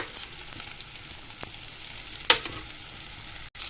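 Ginger-garlic paste fries in hot oil with onions in a pan. Close, even sizzling crackle is punctuated by one sharp utensil tap midway and a brief dropout near the end, with no talking.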